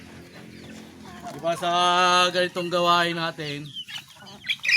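Backyard chickens, including young roundhead hens, cluck and call while being fed, with several bursts close by and someone talking over them.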